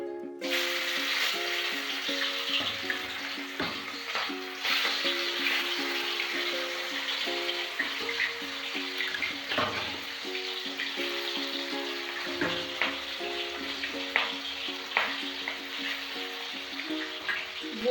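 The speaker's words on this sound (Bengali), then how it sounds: "এবার আমি বোয়াল মাছটা ভেজে নেব।" Pieces of boal fish fry in oil in a wok, a steady close sizzle and crackle with occasional clinks and stirring sounds, no talking.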